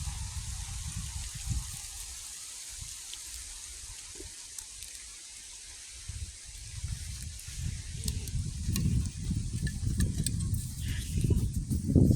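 A campfire burns on a snowy outing with a steady soft crackle and hiss, scattered sharp pops, and low rumbling wind or flame noise that swells toward the end.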